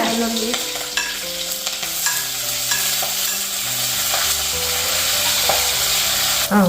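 Green chili, onion and shallots frying in a pan for a sardine fish curry: a strong, continuous close sizzle with stirring, while melodic background music plays underneath throughout.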